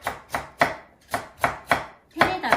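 Quick rhythmic knife chops of a radish being cut into julienne strips on a board, about nine crisp close strokes in steady succession, with a faster flurry at the end.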